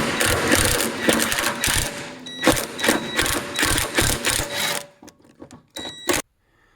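A hand ratchet fitted with a swivel loosens a differential stud on a Subaru STi. Rapid, loud clicking bursts are heard up close, then a quieter gap and a final short burst.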